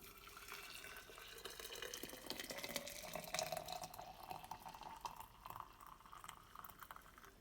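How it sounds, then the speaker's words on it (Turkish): Hot boiled water poured into a jar holding a spoonful of rice, a steady faint trickling and gurgling stream that grows in the middle and fades toward the end. "Sıcak kaynamış su ilave ediyorum içine"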